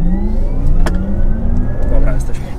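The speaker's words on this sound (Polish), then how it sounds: "ma taki fajny dźwięk to auto, no nie? Tak jak przyspiesza." A 700,000 zł car accelerates, its engine rising in a rich climbing tone with gear-like pitch sweeps, heard from inside the cabin, loud, with people talking over it.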